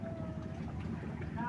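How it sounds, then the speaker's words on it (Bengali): A small boat ride on open water brings a soft, continuous rumble of moving water and breeze, with people's voices talking over it. "নৌকাতে ঘুরতেছি।"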